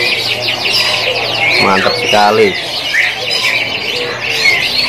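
Canaries chirp and trill in rapid bursts at a bird-market kiosk, a dense chorus of bright tweets running throughout while someone speaks briefly over the birds.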